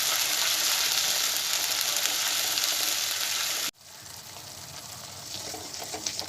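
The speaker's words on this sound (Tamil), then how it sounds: "இந்த மசாலாவை ஆட் பண்ணிவிட்டு மிக்ஸ் பண்ணி விடுங்க" Masala for chicken gravy sautéing in a pan on low flame, hissing loudly and steadily, then dropping abruptly to a softer sizzle as it is mixed.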